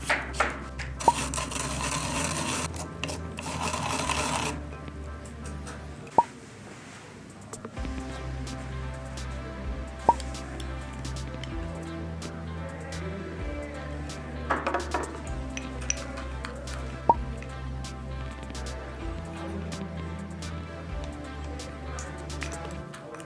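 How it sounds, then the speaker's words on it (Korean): Cucumber rubbed on a grater, then mixed with flour and honey in a bowl for a face pack: a burst of rasping grating, then repeated soft scraping and clinking from the mixing, all under steady background music. "두 번째 오이를 강판에 갈아서 밀가루와 꿀을 섞어서 만든 옥꿀팩을 만들겠습니다"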